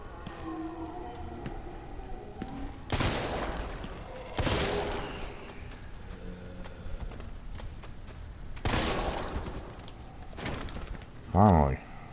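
Several separate gunshots from a handgun in Resident Evil 3, spaced a few seconds apart, each a sharp broadband burst over low game ambience, closing with a brief distorted warbling effect.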